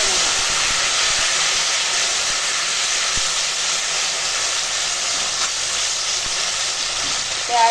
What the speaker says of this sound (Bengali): তো চলো ডালটা সাঁতলে দিই